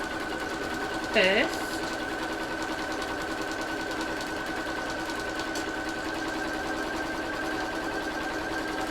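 Steady motorised whirr of a sewing machine running straight stitching around an animal-shaped cushion, continuous and close throughout, with a brief spoken word near the start.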